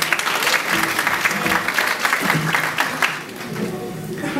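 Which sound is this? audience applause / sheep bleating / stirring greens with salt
audience applause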